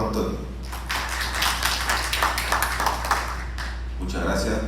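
Audience applause for a professor at a university philosophy congress in Lima, a steady wash of clapping filling the room for several seconds, briefly thinning before swelling again.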